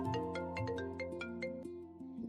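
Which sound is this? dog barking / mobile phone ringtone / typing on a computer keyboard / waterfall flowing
mobile phone ringtone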